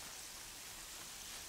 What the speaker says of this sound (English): The rain in this game is so pretty.